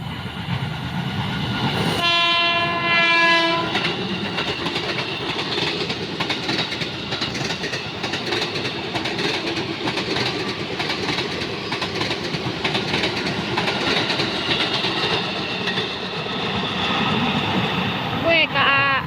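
KRL commuter train in Tambun, West Java passing at night, a loud horn blast near the start over continuous rumbling wheels and clickety-clack close by, with another brief horn toward the end.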